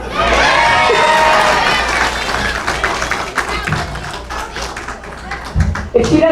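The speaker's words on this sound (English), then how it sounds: "Give these guys another round of applause and they truly deserve it" An audience cheers, claps and shouts after a 2025 school musical at Caroline Reutter School, a loud crowd roar that fades into scattered clapping and shouts.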